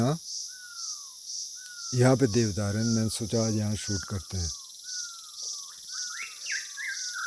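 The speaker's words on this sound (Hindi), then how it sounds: "और झिंगुरों का मौसम है, बरसात के अंत तक रहेगा" Crickets in a deodar cedar forest during the rainy season, a steady high pulsing chirr throughout, with a person speaking over it for a few seconds and thin bird calls scattered around.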